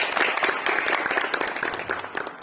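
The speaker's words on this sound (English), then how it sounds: "Actually, let's clap hands for him." An audience at a college orientation workshop claps hands, a loud, lively burst of many individual claps that stays dense and then gradually tapers off.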